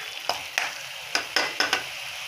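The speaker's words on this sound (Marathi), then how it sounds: "हे बघा, आपला मसाला खूप छान असं फ्राय झालेला आहे." Spiced masala for chole fries in oil in a pan, a steady bright sizzle broken by about six sharp scraping stirs of a spoon, close and loud, with no one speaking.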